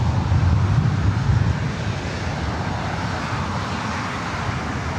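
A SkyWest airplane at LAX rolls for takeoff on runway 24 right, its engines producing a loud, steady broadband roar that swells slightly at first and then holds constant, with wind noise over the microphone.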